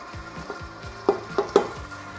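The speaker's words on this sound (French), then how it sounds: "on monte le batteur et on démarre en première" Stand mixer fitted with a beater, running on first speed to mix bread dough for a Viennese loaf with turmeric, walnuts and hazelnuts; a low rhythmic churning with a few louder thumps and scrapes in the bowl, no talk.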